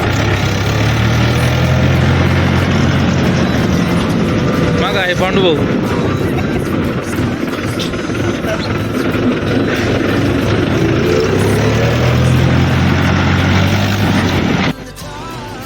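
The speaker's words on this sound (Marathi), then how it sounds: "महिंद्रा कंपनीचे ट्रॅक्टर पाच ते सहा ट्रॅक्टर कामाला आहे" Several Mahindra tractor engines run steadily at a brick kiln where soil is being hauled, a low continuous rumble throughout with someone talking over it.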